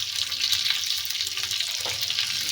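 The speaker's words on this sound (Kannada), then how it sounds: "ಹೀಗೆ ಫ್ರೈ ಮಾಡ್ತಾಯಿದ್ದೀನಿ." Onion, tomato, curry leaves and garlic fry together in a pan for idli and dosa chutney, producing a continuous close sizzle with scattered crackles and pops.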